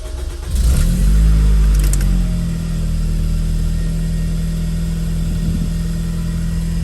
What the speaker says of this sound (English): I just needed to hit the bottom so I could turn the car on.